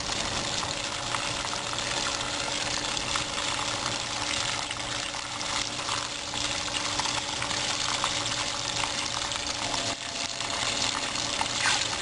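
Tap water runs steadily over lye-cured olives being rinsed, a constant close gushing splash that continues without pause and with no talking.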